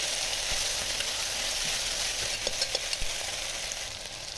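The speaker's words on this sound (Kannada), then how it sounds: "ನಾವಿವಾಗ ಆಲೂಗಡ್ಡೆ ಹಾಕ್ತಾಯಿದ್ದೀವಿ. ಅದನ್ನೊಂದು ಸತಿ ಎಲ್ಲ ಚೆನ್ನಾಗಿ ಫ್ರೈ ಮಾಡಿಕೊಂಡು" Potatoes frying in oil for a vegetable pulao, producing a steady, bright hiss. A few soft taps and stirring knocks come through near the middle.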